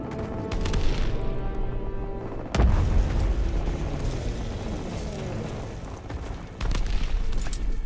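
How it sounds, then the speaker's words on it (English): Mortar strike explosions in the Call of Duty WWII video game, two heavy booming blasts with rumbling debris and sustained battle noise between them. "Daniel, you can signal for mortar."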